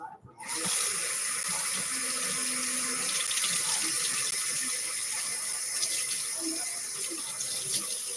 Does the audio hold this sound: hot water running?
yes